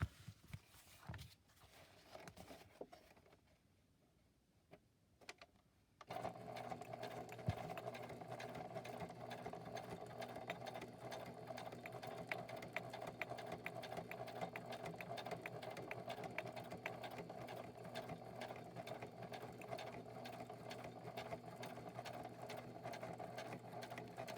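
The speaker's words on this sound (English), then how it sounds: "I was able to put the stitches back in the same holes" A sewing machine stitches a fabric cover for a craft project, running as a steady, continuous mechanical whir for about eighteen seconds after a quieter stretch with some handling noise at the start.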